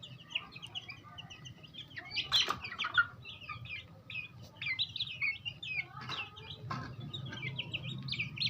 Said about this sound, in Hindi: ये भी बड़े चूजे खा रहे हैं।